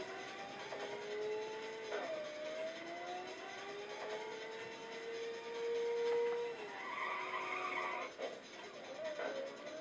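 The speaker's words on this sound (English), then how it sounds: "the drift takes a bit of getting used to because it's, well, different from any Ridge Racer game I've played" Tires squeal and skid as a car drifts through corners in a Ridge Racer racing video game, long rising and falling screeches over a steady engine drone, moderately loud and continuous with no talk.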